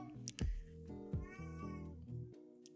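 Domestic cat meowing indoors, several close, clear meows in quick succession with tonal, wavering cries.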